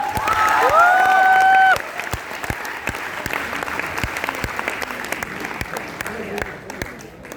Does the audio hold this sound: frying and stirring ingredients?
no